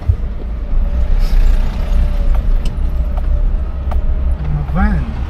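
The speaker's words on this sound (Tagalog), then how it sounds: "May truck din." A truck passing on a mountain road detour along a river near Baguio, heard as a steady low engine and road rumble from inside a vehicle, with a brief rising brake-like tone near the end and people talking throughout.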